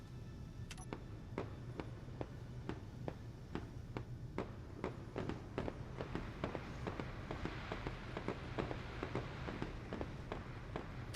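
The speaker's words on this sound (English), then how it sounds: "Here's some fireworks." Firework launchers in the space game Space Engineers fire a rapid series of sharp, evenly spaced pops, about twenty bursts in ten seconds over a steady low hum, growing denser and noisier toward the end.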